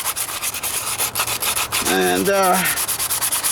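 Wet sanding a 1998 Toyota Corolla hood by hand with 320 grit sandpaper on an old sanding sponge: steady, close rhythmic scrubbing strokes repeat throughout, with a brief spoken word partway through.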